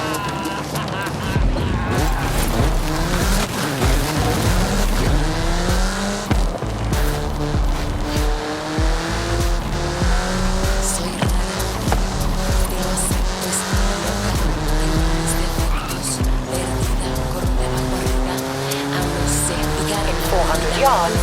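Car in Forza Horizon 5 accelerating hard, its engine roaring loud and steady with rising and falling gear tones and tire squeal over a continuous drone, with a voice talking over it.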